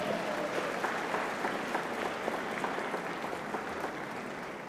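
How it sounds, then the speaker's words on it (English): Audience applause at a senior symposium opening session, soft and somewhat distant, a steady wash of many hands clapping with individual claps poking through and no speech. "Now give yourselves a round of applause."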